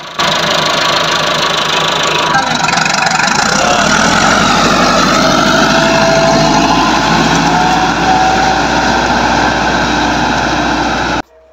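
A Massey Ferguson MF385 tractor engine runs steadily and loud throughout, a continuous low diesel rumble with knocking texture, close by and without speech.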